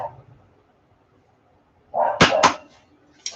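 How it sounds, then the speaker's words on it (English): A dog barks twice in quick succession, sharp and fairly close, after a quiet stretch, followed by a fainter short yelp. "A damn dog, man."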